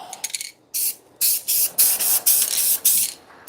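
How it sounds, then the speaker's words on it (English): A spray paint can hisses out a rapid series of short, loud, evenly spaced bursts while coating a giant DIY hot cocoa mug craft, with no talking. "Now start spraying before and finish after."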